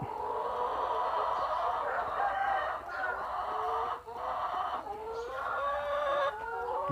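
Hens cluck steadily and fairly loudly inside a henhouse during egg collection, with a rooster crowing now and then among the overlapping calls and no talking.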